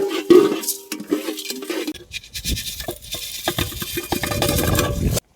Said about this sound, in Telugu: మసాలా కోసం ధనియాలు, మిరియాలు, అనాస్ పువ్వు, పట్టా వంగలు అయితే వేయించుకుంటున్నాం